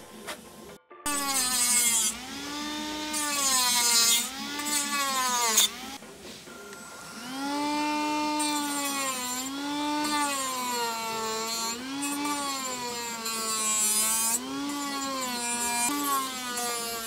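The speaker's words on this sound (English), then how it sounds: "It's time to do a mitre cut here on our 80mm tubes." An 80mm carbon fibre tube is cut at a mitre with a hand saw, producing steady back-and-forth strokes with a rising and falling rasping whine, close and fairly loud.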